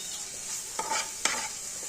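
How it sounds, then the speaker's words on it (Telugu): Ginger paste is stirred into brinjal fry in a pan, giving a soft sizzle with two quick scraping strokes of a spoon, close and brief, without talk. "అల్లం పేస్ట్ వేసుకొని ఒకసారి అయితే బాగా కలిపేసుకోవాలి."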